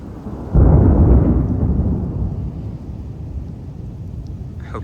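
Thunder from a lightning storm over Houston, Texas cracks into a heavy, deep rumble that rolls on and slowly fades over several seconds, loud and close, with rain noise underneath.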